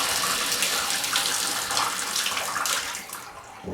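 Steady water rushes from a newly repaired faucet. The flow is loud and continuous, slackens a little near the end, and no one speaks.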